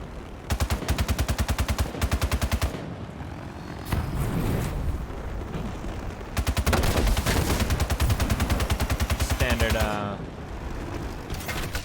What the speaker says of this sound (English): Of course, it has a machine gun on it.